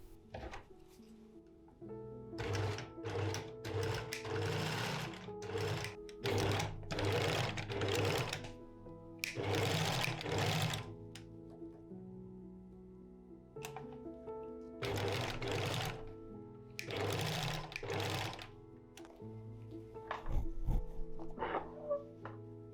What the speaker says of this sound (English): I sewed some twill tape at the top of the loops so the spacing would stay consistent